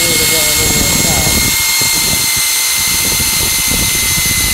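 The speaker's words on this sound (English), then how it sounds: "Pretty good when you look at the speed of the drill." An electric drill runs on power from a Fisher & Paykel three-phase generator, giving a steady, fairly loud mechanical whine with a constant hum. Voices talk over it near the start.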